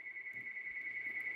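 A telephone rings faintly in the background, a steady electronic tone with a quick, regular pulse. It sounds distant, and a soft low thump comes through partway along.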